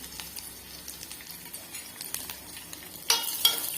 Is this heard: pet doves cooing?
no